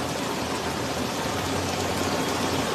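Heavy rain pours steadily during an outdoor evening chicken barbecue dinner in Balingasag, a dense continuous hiss that stays loud and unbroken throughout, with no talk over it.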